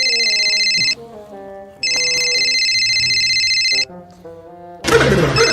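A phone ringtone rings loudly in a Hindi comedy sketch, with two long electronic ring bursts separated by short gaps, then a burst of broadband noise at the end.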